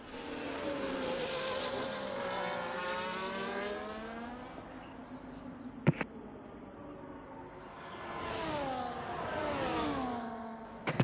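Race cars in a racing video game league event at Singapore: engine tones sweep up and down as cars pass and accelerate, with a sharp click or thud near the middle and another surge of engines later. The sound is moderately quiet, with no talk.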